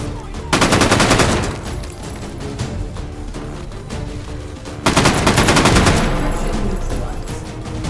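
Full-auto gunfire in the H3VR virtual reality shooter: two long, loud bursts of rapid automatic shots, the first running from about half a second in and the second starting near the five-second mark, with reverberant tails between them.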